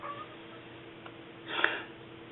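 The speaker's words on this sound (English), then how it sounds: "My cat's talking to a bird. I don't know if you can hear her." An indoor cat meows softly at a bird, a faint chirping call early on and a brief stronger meow near the end, over quiet room tone.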